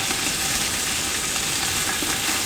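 Hot grease sizzles and spatters in a pan as beef fries for a beef vegetable soup, a steady close hiss that holds evenly from start to finish with no voices.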